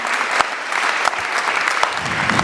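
An audience at a live show claps for André Mendier in a dense, steady round of applause that carries on evenly, with a few louder claps standing out.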